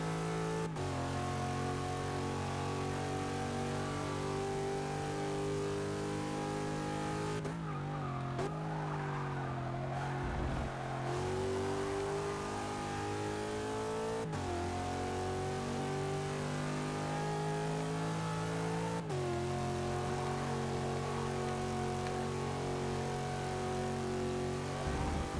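A Pontiac Aztek's engine drones loudly and continuously while racing in Forza 6, its pitch climbing and dropping at several gear shifts, with faint tire noise beneath.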